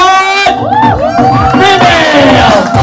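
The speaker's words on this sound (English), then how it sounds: "How about a big round of applause?" Award podium crowd at the Clark Heroes Run 2023 cheers loudly, with whoops and shouts over a lively, sustained roar and clapping beneath, as if close to the stage.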